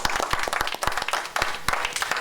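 An audience at a Christmas talk show claps, a moderate patter of hands at a steady pace, fairly faint and even throughout its short span.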